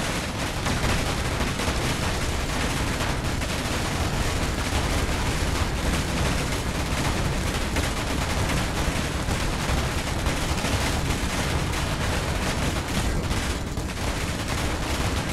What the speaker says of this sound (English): I'm just going in. Guns blazing.